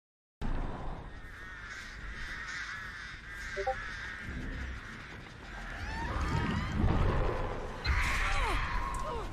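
Crows cawing in the horror game Dead by Daylight, repeated harsh calls over a steady low ambient drone with faint wind, the cawing growing louder and busier near the end.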